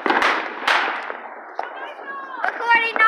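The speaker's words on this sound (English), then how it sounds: "fireworks that are so dangerous" Fourth of July fireworks burst in sharp, loud cracks and bangs, a couple of big close reports early followed by fading crackle and whistling, with people talking in the background.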